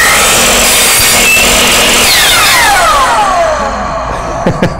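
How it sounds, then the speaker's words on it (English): Loud, close sawing through a wood strip cut at a 30-degree angle, a steady rasp for about two seconds that shifts into a drawn, whining tone before a few short knocks at the end. "I can saw that at 30 degrees."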